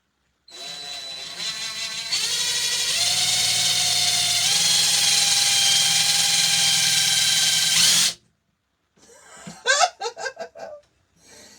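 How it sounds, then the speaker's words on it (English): A power drill whines steadily for several seconds boring a hole into the top of a firecracker, then stops. After a short pause comes a burst of laughter. "I'm just going to drill a hole in the top, right in the center"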